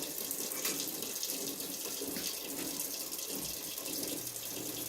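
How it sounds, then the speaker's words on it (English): Tap water runs steadily from a faucet into a cooking pot at a kitchen sink, a soft, continuous splashing stream heard close up with no talking. "I'm gonna make sure I catch water in my pot straight away because I don't want it to discolor my pot."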